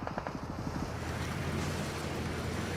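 A hovercraft in PUBG Mobile skims over water, giving a continuous rushing wash of spray and wind noise with a steady engine drone underneath, heard alone throughout.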